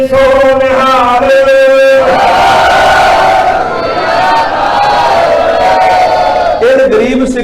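A Sikh congregation roars the jaikara response Sat Sri Akal, a loud, sustained massed shout of many voices following a chanted call.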